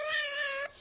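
Cat giving one drawn-out, sustained meow that sounds like "mama," close and clear, ending abruptly.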